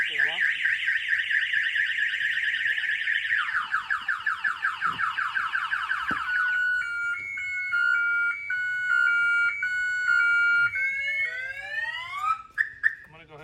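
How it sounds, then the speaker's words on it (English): A Slingshot three-wheeled vehicle's alarm blares loudly, cycling through rapid warbling chirps, a pulsing two-tone pattern, then rising whoops before cutting off with a few short beeps at the end. "I'm going to go ahead and fire off the alarm."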